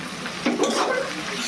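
Chopped onions drop into hot oil with spices for mutton pulao, a soft sizzle swelling briefly and then holding steady with faint stirring, close and fairly quiet.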